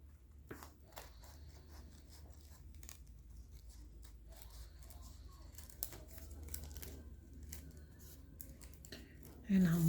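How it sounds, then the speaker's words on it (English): Scissors snipping through acrylic earring backing at close range, a string of short crisp cuts with crinkling and rustling of the material, fairly quiet, ending with a louder handling noise. "Put the backing on so that I can cut it down."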